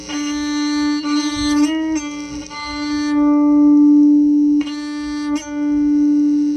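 A bowed string tone through a magnetic guitar pickup, thin at first and swelling louder, with a steady sustained pitch and a few short bow restarts along the way.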